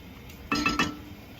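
Utensil clinking against a pan while stirring garlic for a Chinese New Year's Eve dinner, three short close metallic taps in quick succession.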